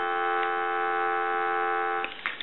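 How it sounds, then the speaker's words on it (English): A steady, buzzy dial tone from a Western Electric Princess telephone hums continuously for about two seconds, then cuts off into a few faint clicks and handling noises. "Give you some dial tone."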